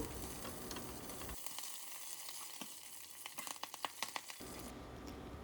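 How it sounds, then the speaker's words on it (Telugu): Curry leaves sizzle in hot oil with already-fried onion and green chillies for a Telangana-style potato and brinjal curry, a steady close frying hiss that dips briefly mid-way while crackles and spatters pop through, then settles back to a constant sizzle. "దీంట్లోకి మనము కరివేపాకు వేసుకుందాము"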